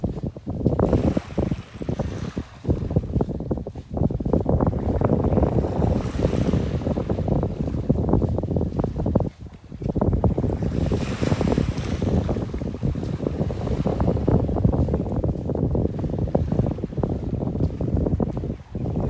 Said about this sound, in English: happy for this wind though. It's blowing the right direction. It's coming from the east.